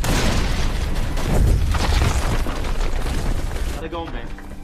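A loud, rumbling explosion in a film tunnel that roars and echoes in the enclosed space, trailing off into debris and a faint tone.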